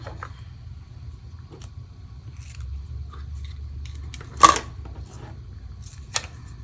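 Scissors snip ribbon after a bow is tied for a handmade watercolor card, giving one sharp, close cut followed by a smaller second snip over a quiet room.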